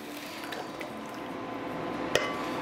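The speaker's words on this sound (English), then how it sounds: "Now I'm gonna add my tomatoes." Canned tomatoes pour into a pan for lasagne sauce, a soft wet glugging and splashing with a clink of a utensil near the end, quiet and close.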